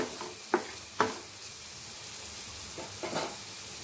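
Potatoes sizzle softly in a pan with fenugreek leaves, a steady low frying hiss broken by a few scraping stirs of a spoon against the pan at irregular moments.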